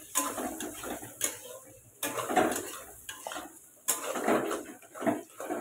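Chicken pieces being sautéed for chowmein: a utensil clanks and scrapes against a metal pan in several sharp bursts, with a light sizzle and clattering between strokes, close and fairly loud.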